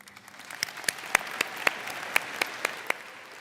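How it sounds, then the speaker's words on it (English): An audience at a College of Agricultural Sciences commencement ceremony claps steadily, with a few nearby hands striking sharp, evenly spaced claps above the softer applause of the crowd. "We're just going to keep clapping and keep them all standing."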